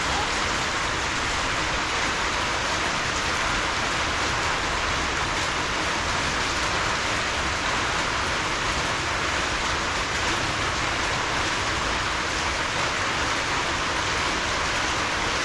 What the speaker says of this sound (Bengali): এখনো বৃষ্টি থামছে না